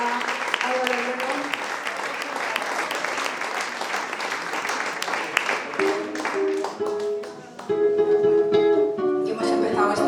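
Audience applause at a live tribute concert after a performer finishes, dense clapping fading as a musical instrument begins playing sustained notes underneath.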